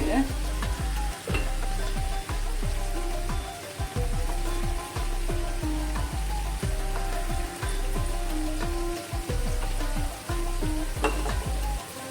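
Ingredients sizzle and fry in a pan for mutton biryani, Muslim style, with a steady loud crackle and repeated scraping stirs throughout and no talking.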